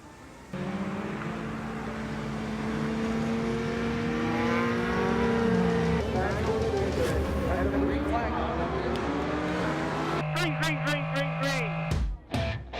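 Race cars roaring off at the start of the 25 Hours of Thunderhill endurance race, a sustained loud engine drone with rising revs and pitch sweeps as cars pass, a commentator talking over it and a sharp cutoff near the end.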